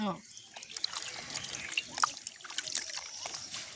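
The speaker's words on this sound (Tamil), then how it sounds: "நாங்கள் இப்போ ஒரு தடவை கழுவி எடுத்துட்டோம் இந்த காளானை" Mushrooms being washed by hand in water, with close splashing, trickling and dripping in an uneven run of small sounds.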